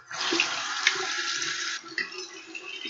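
Running water splashes steadily over metal implements being rinsed under a tap in a waxing and facial setting, a close continuous hiss that cuts off briefly near the end before a softer trickle resumes.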